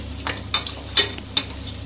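Mutton curry being stirred with salt in a pan, four distinct scraping strokes of a spoon against metal in a steady rhythm, close and clear over a low background hum.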